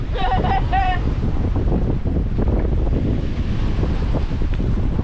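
Strong north wind roars across the microphone by the water at night during a shrimping outing, a loud, constant rumbling buffet with a faint voice-like sound near the start.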